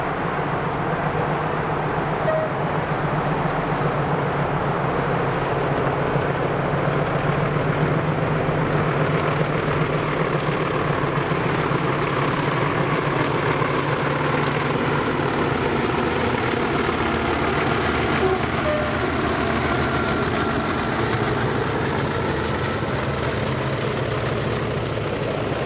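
A pair of Class 40 diesel locomotives labour up the Beattock incline with a Class 47 on the rear, giving a steady, heavy engine drone and rumble that holds for nearly half a minute at a moderate distance, with no voices.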